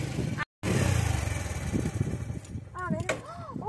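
A motorcycle pulls up and arrives, its engine rumbling and revving close by beneath people talking, the roar easing off as it comes to a stop.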